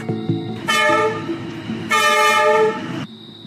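A cartoon sound effect of a train whistle as a train arrives: two long, loud, bright toots separated by a short pause, heard alone.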